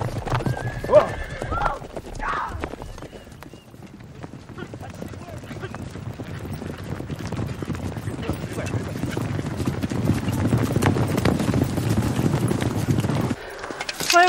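Several horses gallop in a hurried clip-clop across a trail, with sharp neighs and whinnies mixed in, loud and close throughout, while people shout and speak over the hoofbeats.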